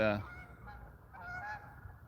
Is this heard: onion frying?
no